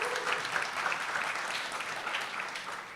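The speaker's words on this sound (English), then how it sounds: "yes, please do give him a round of applause" Steady applause from an audience at a community board swearing-in ceremony, greeting an attorney. The clapping is fairly faint and continuous.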